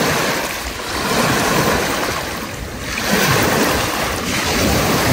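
Steady wind rushes and gusts across a lakeshore at Mangla Dam, with waves lapping and washing over stones in surging swells, loud and continuous with no voices.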